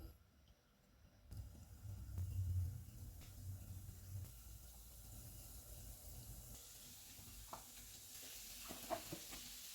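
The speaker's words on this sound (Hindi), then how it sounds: "डोनट्स को फ्राई कर लेते हैं" Donuts frying in hot oil on a low-to-medium stove, a steady soft sizzle and hiss that continues throughout, with faint occasional pops and clinks, no talking.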